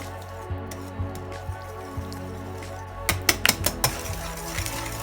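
Oat cupcake batter flavoured with vanilla extract is mixed in a bowl. Wet, squishy slaps and small clicks come in an irregular run that grows busier and closer partway through.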